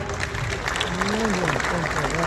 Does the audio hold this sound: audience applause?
yes